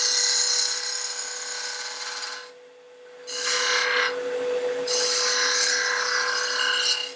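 A wood turning gouge with its bevel rubbing cuts a bottle stopper on a lathe, giving a steady close rasping scrape that stops briefly, returns in a short burst, pauses again, then resumes continuously.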